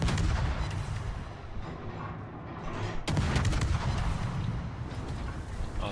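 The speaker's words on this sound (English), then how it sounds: "460 millimeter shells. So wait for him to fire up." Heavy naval artillery firing 460 mm shells in World of Warships, a dense rumbling barrage with a sharp loud volley partway through, sustained and booming with no talk.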